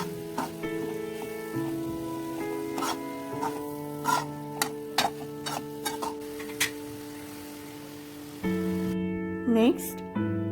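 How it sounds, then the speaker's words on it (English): A spoon stirs boiled corn and paneer cubes into a spinach sandwich filling in a pan, with a series of distinct scraping and tapping strokes and a soft sizzle, all under background music. "Now add the paneer cubes and mix for another minute."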